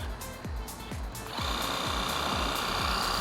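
A Fanttik NB10 Flip cordless pressure washer running on its low setting gives a steady motor drone with a regular pulsing thump, and after about a second a brighter, louder spray hiss joins in and holds steadily.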